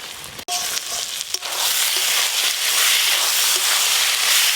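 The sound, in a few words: spices with tomato frying in a pan for mutton biryani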